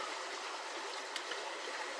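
Water of the Indigirka River flowing near Oymyakon, a steady close rushing and trickling hiss throughout with no voices.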